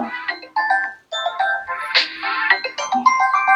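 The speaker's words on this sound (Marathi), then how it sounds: "फक्त माझा परत फोन यायला लागला" A melodic electronic phone ringtone plays close by, a bright tune of repeating notes in short phrases with a brief gap early on.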